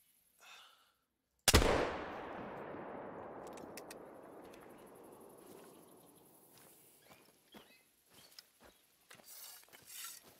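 A single loud muzzleloader shot in the hunting game theHunter: Call of the Wild, a sharp crack followed by a long rolling echo that fades over several seconds, with faint clicks and small sounds afterward.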